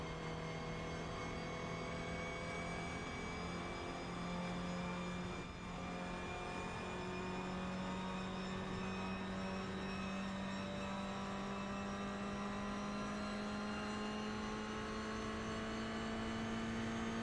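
A continuous engine drone holds steady throughout, with its pitch slowly rising as if a car is accelerating in a racing game, with no voices.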